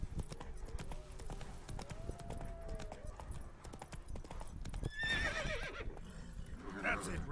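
Roach the horse trots in The Witcher 3, with quick, even hoofbeats throughout and a shrill whinny near the end, over murky game ambience and a faint voice.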